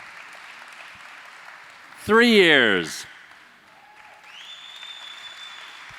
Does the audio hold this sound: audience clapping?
yes